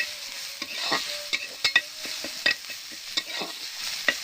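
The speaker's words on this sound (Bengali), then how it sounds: "আমাদের কিন্তু মশলাটা ভালোভাবে ভাজা হয়ে গিয়েছে" Spice paste with tomato fries in oil, a steady soft sizzle broken by scraping stirs and small crackles, close and fairly quiet with no talking.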